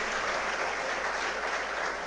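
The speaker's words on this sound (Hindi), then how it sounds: "आपके लिए भी एक बार जोरदार तालियां बजाएं," A large audience applauding at a civil services success talk, a thick, continuous roar of clapping at steady loudness.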